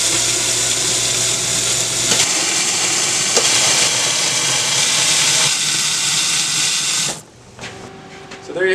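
A 2-inch-wide Hypo-Grind needle nozzle under a flow test gives a loud, steady, close rushing hiss for about seven seconds, then cuts off abruptly, leaving a quieter tail.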